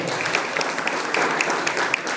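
A crowd at a religious gathering applauds children being announced for prizes, a steady patter of many hands, fairly loud and continuous with a few sharper claps standing out.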